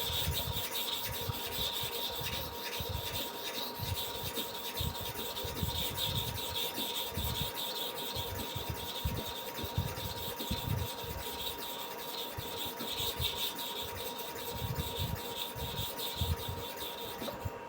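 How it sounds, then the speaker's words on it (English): Steady rubbing and scraping of a barber's bottom clipper blade being sharpened by hand, a continuous gritty back-and-forth friction that stays close and even throughout with no talking. "If you want to sharpen the bottom clipper blade, you can still maintain the same, or let us use the same method throughout."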